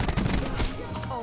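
Rapid automatic gunfire in a shooter video game, a dense burst of loud shots in quick succession that tapers off after about half a second.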